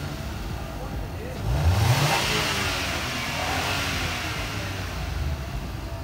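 A 2021 Suzuki Alto VXR 660cc engine, after a catalytic converter and oxygen sensor cleanup, idles steadily then rises into a sustained rev, close and continuous with a throaty mid-range drone.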